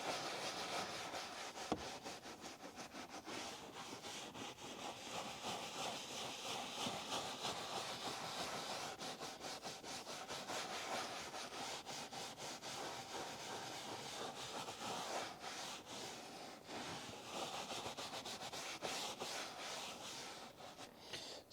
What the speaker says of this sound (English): Just a very light scrubbing because the bristles will help get into the grain of the leather